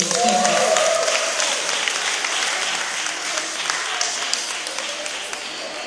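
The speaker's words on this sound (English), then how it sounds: "Another round of applause, please." An audience at a women's spoken word and music show applauds in a dense, sustained wash of clapping that fades slightly toward the end, with a voice briefly audible at the start.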